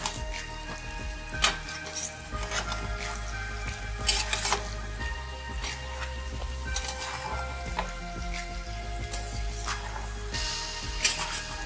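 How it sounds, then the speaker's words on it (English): Sliced potatoes sizzle steadily in a hot pan with spices as a spoon stirs them, giving intermittent scraping clinks over continuous frying hiss. "Mix the spices well with potatoes."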